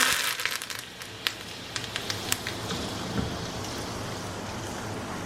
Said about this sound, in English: You can hear the mustard seeds spluttering or the crackling sound of mustards